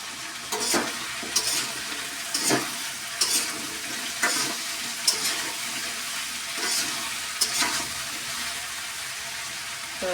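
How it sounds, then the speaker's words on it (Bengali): Vegetable curry frying in a pan, a steady soft sizzle with periodic scraping stirs every second or so, close by and with no voices. "তো তরকারিটা ভাজা হোক"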